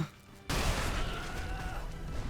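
A sudden loud spell blast goes off in the video game Magicka after a quiet start, followed by a sustained crackling, rumbling burst that continues to the end.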